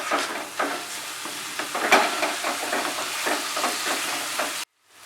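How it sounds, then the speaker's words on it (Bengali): Spice masala for a rui fish curry fries in oil in a pan, giving a continuous close sizzle with scraping stirs that comes to an abrupt stop near the end. "মশলাটাকে কষিয়ে নেব 3 থেকে 4 মিনিট।"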